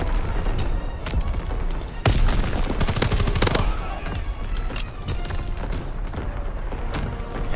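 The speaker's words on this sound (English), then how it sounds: "Incoming enemy artillery." Incoming enemy artillery in the video game Call of Duty WW2: a loud barrage of booming blasts and rapid gunfire, dense and chaotic, with heavy impacts peaking midway.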